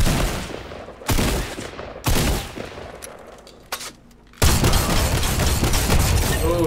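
Drum-fed shotgun blasts at a video game shooting range ring out loud and close, a series of heavy booming shots spaced about a second apart, each with a rumbling tail, heard alone.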